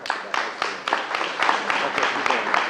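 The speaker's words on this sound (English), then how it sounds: "Let's give him another round of applause." An audience at a contractors' event gives a speaker a round of applause, steady and fairly close, with dense overlapping claps and some voices mixed in.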